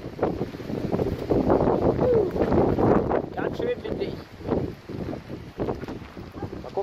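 Gusty wind buffets a boat on a short excursion, a steady rough roar that rises and falls throughout, with voices talking beneath it.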